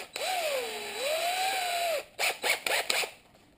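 A power drill used as a makeshift lathe during VW Bus restoration work whines steadily, rising and falling in pitch, then stops and restarts in a few short bursts close by.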